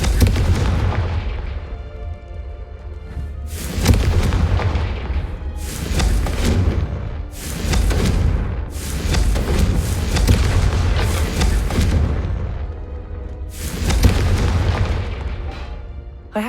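Repeated loud Confringo spell explosions in the Hogwarts Legacy video game, a series of booming blasts roughly every two seconds over a continuous low rumble, with no talking.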